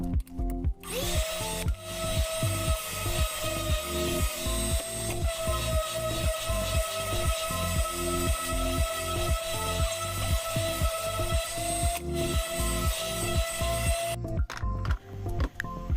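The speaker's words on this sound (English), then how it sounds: "prep it with the sanding machine" A power sander works reclaimed wood, its motor holding a close, steady whine with a fast rhythmic pulsing that runs continuously before cutting off near the end.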